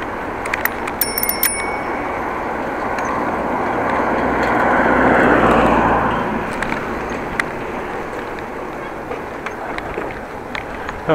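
A bicycle bell rings in several quick, fairly faint dings near the start, from a rider approaching people on a street, with traffic and ambient city noise around it.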